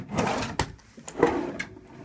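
A bathroom drawer in a TownePlace Suites by Marriott hotel suite in Livonia, Michigan slides open and shuts, with a couple of sharp knocks and sliding rattles at close range, the room otherwise quiet.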